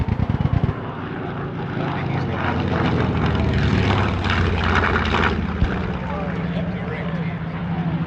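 Focke-Wulf FW-190 warbird, built in 1944 and later rebuilt, roaring at an airshow. A loud, sustained propeller-engine drone holds steady near the microphone, with some crackle at the start.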